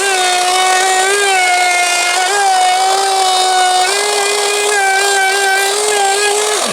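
A large wood router cuts into a guitar body with a loud, steady, high-pitched motor whine, close and continuous with slight pitch dips as it bites into the wood.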